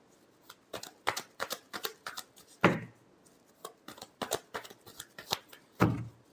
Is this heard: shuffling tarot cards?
yes